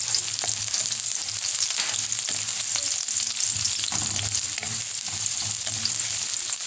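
Garlic and onion sauté in a heated pan for chicken pochero, giving a steady, close sizzling hiss with occasional stirring scrapes and no talk.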